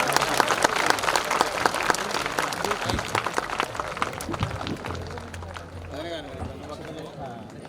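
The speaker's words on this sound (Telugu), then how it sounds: "గట్టిగా చప్పట్లు కొట్టి స్వామిని కీర్తించండి" A crowd at a Lakshmi Narasimha Swamy temple wedding ceremony claps loudly and steadily for several seconds, the dense applause easing toward the end while people talk over it.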